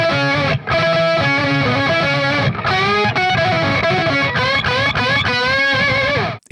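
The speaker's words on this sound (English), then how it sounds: "I really love the way that intro octave solo sounds." Distorted electric guitar plays a soaring octave solo from a song intro, with a doubled, chorus-like effect; loud and continuous, bending sustained notes with brief gaps, no talking.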